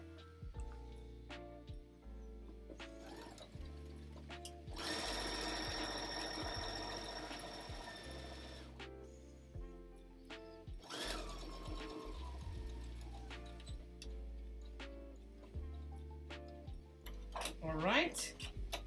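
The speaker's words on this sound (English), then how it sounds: "We're going to sew down this short side completely." Sewing machine stitching down the side of a fabric basket, running in two loud buzzing bursts with softer clicks and handling noises between, close and clear.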